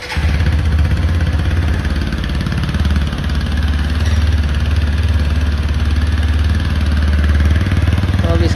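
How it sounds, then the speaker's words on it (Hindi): A 2022 TVS Apache RTR 160 4V Special Edition motorcycle idles with a loud, close, steady exhaust thrum and slight mechanical clatter, continuous and uninterrupted. "इसका एग्जॉस्ट आपको सुना देते हैं।"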